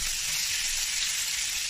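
Meat seasoned with salt and pepper sizzles steadily in a frying pan, a dense, even hiss that stays at one loudness throughout with no voices over it.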